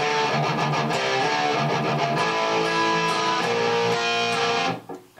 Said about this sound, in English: This is how you're going to play the verse riff slowed down